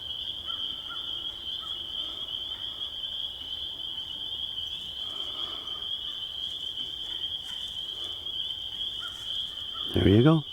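Frogs sing outdoors in a dense, continuous high-pitched trilling chorus that holds steady throughout, and a brief louder sound breaks in near the end.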